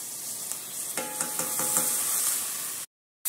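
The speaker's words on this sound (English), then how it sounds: "And then you'll stir that until it's fragrant." Garlic and red pepper flakes stirred in a hot skillet, a steady close sizzle of frying with a few scraping stirs of a utensil, ending abruptly in silence.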